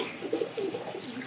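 A Darjeeling pigeon gives a soft, close series of low coos, brief and gentle against a quiet background.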